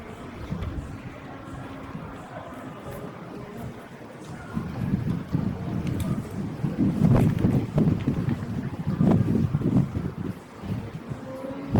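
Wind gusts through a narrow passage on a city walk from Pyrmont toward Circular Quay in Sydney: a low, blustery rush that swells and buffets louder in the second half.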